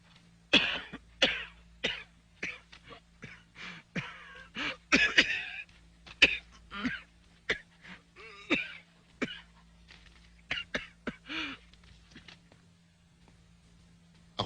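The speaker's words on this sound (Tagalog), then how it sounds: "Mahina na rin ang pulmo nyo, kaya kayo inuubo" An ailing person with weak lungs coughs over and over in a quiet indoor room, with short harsh bursts and rough throat-clearing spread across the whole stretch, close and fairly loud, with no talking.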